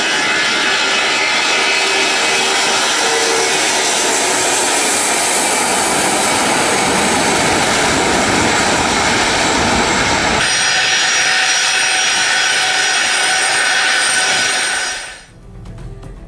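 A Russian doomsday plane landing in Tehran: loud, continuous aircraft engine roar with a broad jet whine, holding steady for about fifteen seconds before abruptly cutting off near the end.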